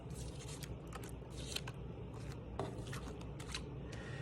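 Plastic film is peeled and torn off a cardboard box holding a house model kit, giving close, crinkly rustles and brief sharp crackles in uneven bursts.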